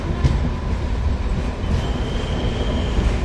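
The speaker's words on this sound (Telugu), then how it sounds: "నల్గొండకి మన ట్రైన్ ప్లాట్ఫామ్ 1కి అయితే వచ్చింది" A passenger train pulls into platform 1 at Nalgonda railway station, a steady loud rumble of wheels and carriages with a faint high squeal from the rails, no voices.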